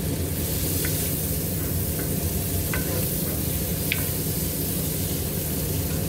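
Onion and garlic frying in a pan give a steady, close sizzle that fills the whole clip, with a few faint scrapes of stirring on top and no voices.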